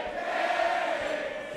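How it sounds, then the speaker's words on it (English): A packed wrestling audience at a ladder match fills the air with sustained, even chanting, a steady roar of many voices with no break across the moment. "these dueling chants, it is a white-hot crowd here at Barramania"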